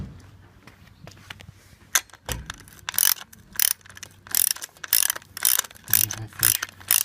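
Socket ratchet tightening the bolts on a ShelterLogic Monarc canopy leg footing, with rapid clicking bursts repeated in quick succession, close and fairly loud, with no talking.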